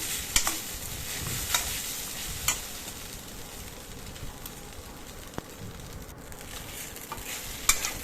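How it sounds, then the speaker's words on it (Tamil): Idli upma being stirred and fried in a pan gives a steady low sizzle, with occasional scrapes and clinks of the spoon against the pan, close and unaccompanied by talk. "இதை நல்லா ஒரு 2 நிமிஷத்துக்கு நல்லா கிளறி விட்டுக்கலாம்"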